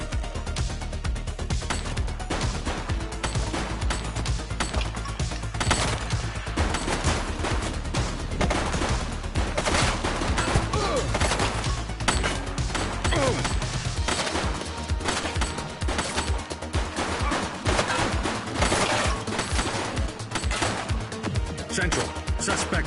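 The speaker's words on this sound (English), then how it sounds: "Shots fired!" Gunfire in The Precinct police game, rapid overlapping shots and bursts in a dense, continuous barrage, loud and close, with voices shouting over it.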